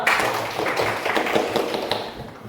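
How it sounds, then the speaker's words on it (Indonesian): A classroom of students applauds a student group after their presentation. The clapping is brisk and continuous, moderately loud, with a few sharper taps standing out. "Kita berikan tepuk tangan dulu."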